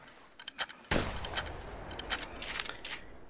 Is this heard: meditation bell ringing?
no